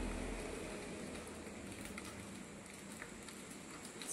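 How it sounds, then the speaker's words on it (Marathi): Heavy rain falling outdoors in Kanakavli, a steady dense hiss of drops on surfaces that holds at an even level throughout, with no speech. "असा पाऊस आहे."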